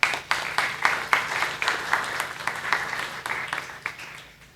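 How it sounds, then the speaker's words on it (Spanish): Applause from an audience at a university gathering honoring a school director, with steady, dense clapping that tapers off toward the end. "un aplauso"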